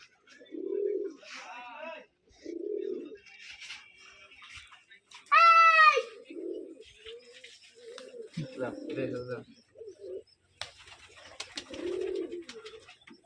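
Soft, low coos from racing pigeons at a pigeon farm repeat in short bursts, with a person talking in between and a brief sharper bird call.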